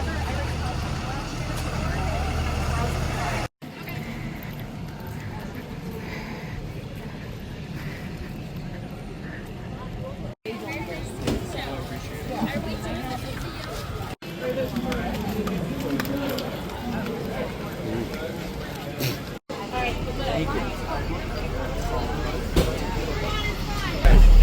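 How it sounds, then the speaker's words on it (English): Inside a moving school bus carrying triathletes to a swim start, a constant engine and road rumble runs under steady chatter and babble from many passengers. "We're on a school bus going to the swim start."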